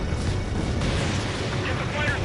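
Big explosion as a target is destroyed in the combat flight game Ace Combat 7: a dense, sustained low rumble filling the whole moment, with radio voices talking over it.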